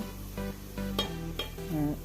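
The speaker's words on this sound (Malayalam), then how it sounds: "അര ടേബിൾ സ്പൂൺ നെയ്യ് ചേർത്ത് ഒരു ടേബിൾ സ്പൂൺ തേങ്ങാക്കൊത്തും ചേർത്ത് നല്ലപോലെ ഒന്ന് മൂപ്പിച്ചെടുക്കാം" Soft, steady sizzling of coconut pieces frying in ghee, quiet and close, with faint tonal sounds drifting over it.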